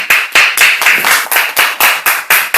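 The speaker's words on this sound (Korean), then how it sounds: "머리 박수 한번 쳐줄까?" Children in a small school classroom clap in unison, a quick steady rhythm of about ten sharp, loud claps in under three seconds, close and bright with no talking.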